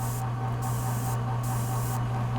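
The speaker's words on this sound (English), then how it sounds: "A couple test sprays here." An airbrush gives a few short test sprays of paint, three brief bursts of airy hiss over a constant low compressor hum, close up with no talking.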